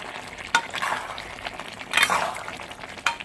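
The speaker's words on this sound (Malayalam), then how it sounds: "നന്നായിട്ട് ഇളക്കി കൊടുക്കുക." A spoon stirs Kerala-style beef curry in a pan, giving a few scraping strokes and light clinks over a faint sizzle, with no voices.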